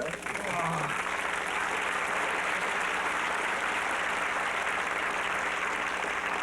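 Studio audience at a talk show breaks into sustained, even applause that fills the room, loud and continuous from start to finish after a brief voice at the opening.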